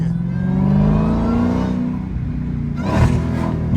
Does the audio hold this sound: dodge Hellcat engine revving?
yes